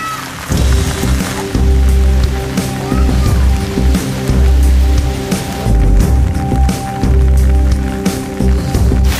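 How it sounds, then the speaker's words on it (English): Steady rain patters close by, mixed with rhythmic squelching footsteps that thump at regular intervals. "It is raining"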